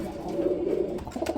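A pair of Musaldom pigeons coo in a steady, low, burbling drone, close by and moderately loud, with a few throaty pulses toward the end.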